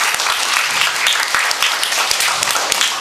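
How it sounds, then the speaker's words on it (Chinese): An audience claps warmly for primary school children at a filial piety storytelling contest, a busy wash of many hands with a few sharper individual claps standing out, loud and sustained. "所以这个我们应该给他们一个掌声"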